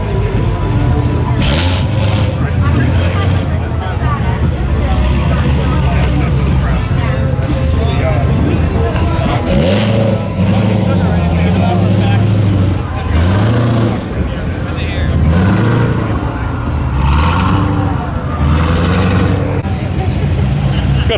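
Custom cars including a Cobra and a Mad Max build rolling out at a Texas car show, engines rumbling and revving close by amid crowd noise and people talking.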